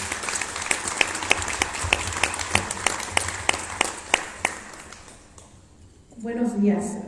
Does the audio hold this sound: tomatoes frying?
no